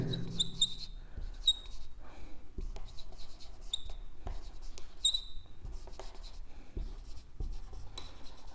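Chalk or marker writing on a board during a grammar lesson, close scratchy strokes and squeaks in short bursts with taps between them, no talking.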